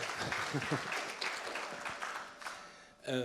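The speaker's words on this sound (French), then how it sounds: "Vous pouvez les applaudir." A conference audience applauds the speakers after a talk on people's place in industry, a moderate, fairly close patter of clapping with some individual claps standing out, then a voice cuts in at the end.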